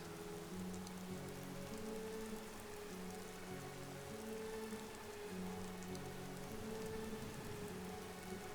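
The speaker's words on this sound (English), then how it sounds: "I do need to get out of this rain." Steady rain falls in the video game Skyrim, a quiet, continuous patter and hiss with no break and no voices.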